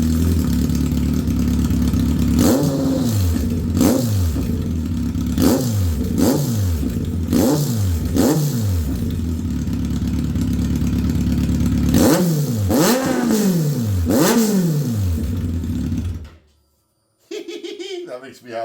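A Kawasaki Concours 14 motorcycle engine with no exhaust fitted revs hard in a series of sharp throttle blips over a loud raw idle, close by, before cutting off abruptly near the end.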